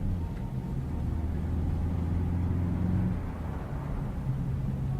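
Steady low engine rumble of a car ride in the video game Assassin's Creed 3, a continuous hum under faint background tones with no talking, holding level for several seconds.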